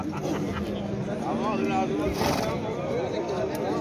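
Horse neighs at a busy horse market in Jany Nookat, a wavering whinny mixed into constant crowd chatter and people talking nearby.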